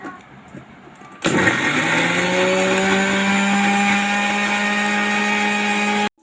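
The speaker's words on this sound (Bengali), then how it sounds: "এবার এই পেঁয়াজটা আমরা পেস্ট করে নেব।" An electric blender grinds fried onions into a paste, starting abruptly after a quiet moment, then running as a loud, steady whirring drone whose pitch settles slightly lower, and it stops sharply at the end.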